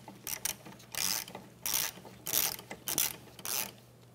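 A ratchet with an extension snugs the rear brake caliper bolts on a 2011-2016 Hyundai Elantra, giving several quick bursts of clicking separated by short pauses, close up with no talking.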